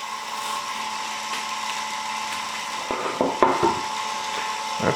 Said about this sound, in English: We're going to start with the same sanding regimen.